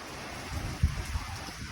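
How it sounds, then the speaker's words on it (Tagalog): Steady, dense rain roars with gusty wind noise during a storm in Zamboanga Sibugay, Philippines, a couple of low thumps standing out briefly against the constant wash. "grabe ang lakas ng hangin. Iba talaga dito pag umuulan pala"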